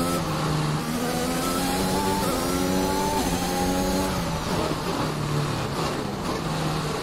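A Formula 1 car in the F1 Braking Point game accelerates at Spa in the rain. The engine whines steadily upward through several gears, loud and close, with spray and road noise hissing underneath.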